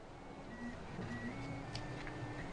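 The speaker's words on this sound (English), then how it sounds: "making face shields for frontline doctors with his 3D printer at home" A home 3D printer making plastic face shields, its stepper motors giving a steady, faint mechanical whine and hum with small tonal shifts over a low background, no voices.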